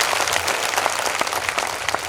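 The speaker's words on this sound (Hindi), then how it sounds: "बोलो यीशु प्रभु की जोरदार ताली मेरे प्रभु जी के लिए।" A church congregation at a Christmas festival in Banswara, Rajasthan claps loudly and steadily, a dense burst of applause filling the hall.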